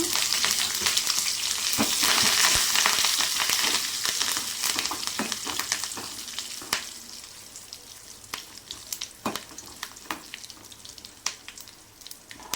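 Loud sizzling of tempering spices hitting hot oil, crackling densely at first, then thinning into scattered pops and occasional stirring scrapes.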